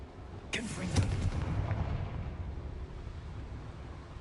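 A Confringo explosive spell in Hogwarts Legacy goes off with a loud, sudden boom, followed by a rolling rumble that fades slowly over several seconds.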